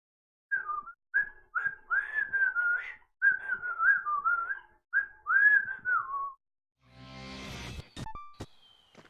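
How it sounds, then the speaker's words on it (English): A person whistling a quick, warbling tune in short phrases, fairly close and alone for about six seconds, followed by a burst of rough noise and sharp clicks. "There will be more whistling."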